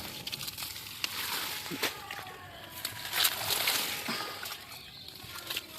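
Water sloshes and splashes in uneven bursts as someone wades into shallow water and pulls out floating weeds by hand, close and fairly steady, with someone talking over it.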